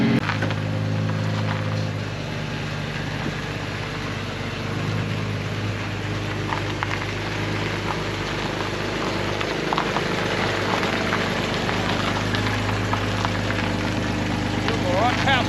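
A Ford XC Falcon panel van cruises along with a steady engine drone and road rumble filling the cabin, while people talk over it.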